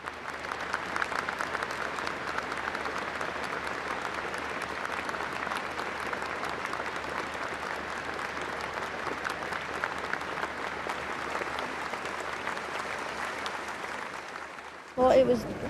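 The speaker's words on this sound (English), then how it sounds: "In Manchester, a long minute ended with applause." A large outdoor crowd in Manchester applauds steadily after a minute's silence, a broad, sustained patter of many hands that stays even throughout before a brief louder burst at the very end.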